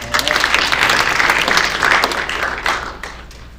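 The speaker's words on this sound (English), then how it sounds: "Round of applause." An audience at a university founders' demo day breaks into loud, dense applause that swells early, holds, then tapers toward the end.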